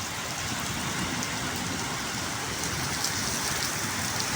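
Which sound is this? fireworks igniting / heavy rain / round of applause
heavy rain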